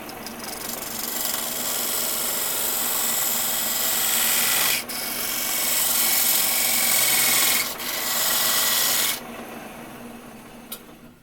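A turning tool cuts wood on a lathe and catches brass, a loud continuous close rasping hiss broken by two brief dips and a sudden stop, followed by a few faint clicks.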